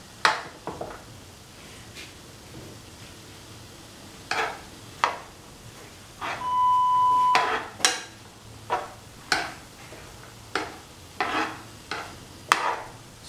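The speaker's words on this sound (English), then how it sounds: "Stir thoroughly so that the black-eyed beans and ash gourd are nicely mixed." Black-eyed beans and ash gourd being stirred in a pot, producing a series of regular close scrapes and knocks against the pot. A brief electronic beep sounds partway through.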